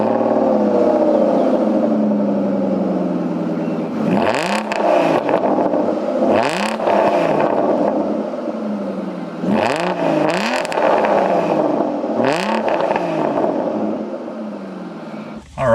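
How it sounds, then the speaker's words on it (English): A 6-liter V12 in an Aston Martin Rapide revs hard several times, each loud blip rising and falling over a steady idle, close and continuous with no voices. "let's get a quick listen as to what a 6-liter 12-cylinder sounds like from Aston Martin."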